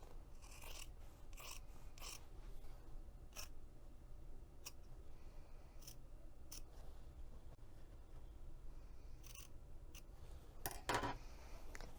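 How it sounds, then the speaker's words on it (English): Fabric scissors snip into the corners of a zipper pocket opening on a tote bag, a series of quiet, crisp, irregularly spaced cuts close up over faint room hiss, with no talking. "when you cut into the V's, cut as far into the corners as you can without cutting the stitches"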